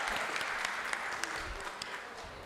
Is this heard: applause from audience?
yes